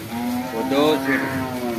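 A large buffalo at a rural cattle market lets out a single drawn-out, low moo nearby, steady and fairly loud against faint background noise.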